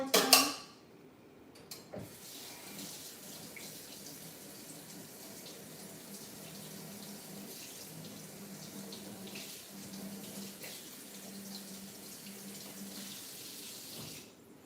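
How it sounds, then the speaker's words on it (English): Hot water runs steadily from a kitchen tap in a soft, even hiss, with a couple of brief clunks at the start. No voices are heard. "I'm gonna hit this with some hot water one more time."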